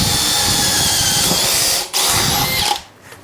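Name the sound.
Makita 40V XGT hammer drill drilling with half-inch bit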